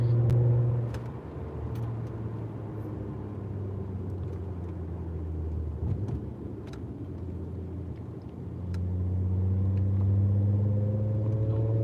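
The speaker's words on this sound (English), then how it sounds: "It's a lot of traffic, girl." Passing road traffic of cars, with a low engine rumble that swells loud near the start and again toward the end, quieter through the middle, and no talk.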